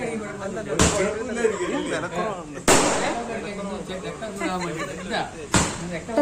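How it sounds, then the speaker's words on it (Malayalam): Firecrackers burst during an evening Onam celebration: three sharp, loud bangs spaced a few seconds apart over steady background chatter and people talking. "അന്ന് വൈകിട്ട് ഞങ്ങൾ കുറച്ച് പടക്കമൊക്കെ പൊട്ടിച്ചു."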